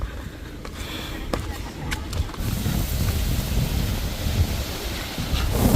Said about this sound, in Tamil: பயங்கரமான காற்று அடிக்கிறது.